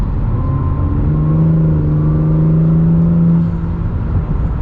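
An Acura NSX supercar accelerates at full throttle in its quiet mode, a smooth, subdued engine hum rising in pitch from inside the cabin, steady and moderately loud before easing off near the end.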